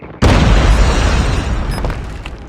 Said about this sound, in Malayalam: Throwing smoke grenade.